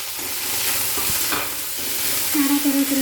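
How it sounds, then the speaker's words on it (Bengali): Onion paste, with chopped onion and green chilli, frying in hot oil in a pan: a soft continuous sizzle with scraping stirring strokes close by, and a brief faint tone near the end. "নাড়াচাড়া করে নেব তেলের মধ্যে।"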